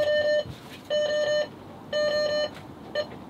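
A man-overboard alarm on a sailboat sounds in repeated bursts of electronic beeping, roughly one per second, close and clear with quiet gaps between each burst.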